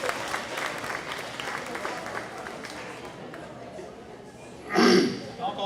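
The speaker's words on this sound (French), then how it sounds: "Donc, on peut tous les applaudir." An audience at a seniors' consultation-table meeting breaks into applause, a crackling patter of clapping throughout with a louder burst near the end, mixed with voices.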